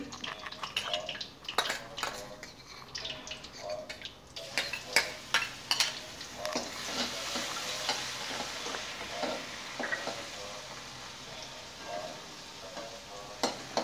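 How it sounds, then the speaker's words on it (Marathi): Cumin, garlic and green chili paste fry in oil for a chickpea dal dish, a close, busy sizzle with repeated stirring scrapes and clinks of a utensil against the pan that settles into a steadier crackle. "जिरे, लसूण आणि हिरवी मिरची चांगली परतली"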